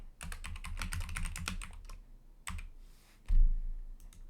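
Fast bursts of close-up computer keyboard typing while writing Spring Boot code, crisp clustered keystrokes that pause briefly, then resume with a few isolated taps and a firm final key strike.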